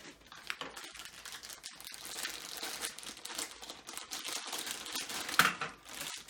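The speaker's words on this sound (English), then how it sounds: "Lots of tape that is getting in the way. So pull those out. More packaging out of the way." Plastic packaging and tape being pulled and crinkled off a Bandai Premium Kyuranger Dark Seiza toy blaster, a dense run of close crackling, rustling and tearing with a sharper snap near the end.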